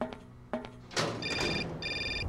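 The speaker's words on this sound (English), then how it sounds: "Oh, and my phone is going to ring again." A phone rings in the Syberia video game, a bright electronic trill arriving in two repeated bursts after a couple of dull knocks, with a brief whoosh just before the ringing starts.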